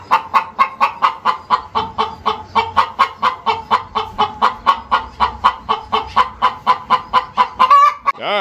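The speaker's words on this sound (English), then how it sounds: "Gretchen, what are you yelling about, girl? Got an egg to lay" A hen clucking loudly and steadily before laying an egg in a homestead barn, a long even run of about two dozen sharp rhythmic clucks, close and alone, ending in a higher squawk.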